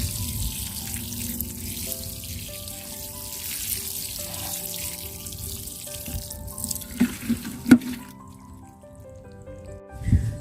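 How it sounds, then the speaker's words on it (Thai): Water is poured onto a newly planted taro pot, a continuous close trickle and splash that shifts in tone, ending in a few louder drips and knocks. "เราก็รดน้ำให้ชุ่มเลยค่ะ นะคะ ให้ชุ่มเลยนะคะ ให้เปียกเลยนะคะ"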